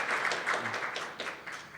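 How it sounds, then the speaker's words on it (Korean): Audience applause welcoming a speaker to the stage at a digital finance forum, a moderate crowd clapping in a soft, dense patter that stays fairly even for about two seconds. "큰 박수로 맞아 주시기 바랍니다"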